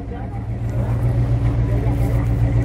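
Vintage Chevrolet car pulling away at a classic car gathering for vehicles over thirty years old, a loud close engine rumble that builds steadily, with a person talking over it.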